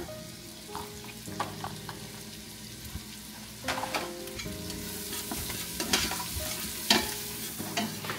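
Ginger, garlic and green chili paste fries in a hot pan with red Agri masala and turmeric, a close, steady sizzle with scraping stirs and clinks of a spoon, while faint background music plays beneath.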